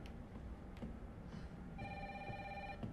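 A telephone rings in the Resident Evil 3 video game, its electronic tones sounding steadily through the second half against a low background rumble.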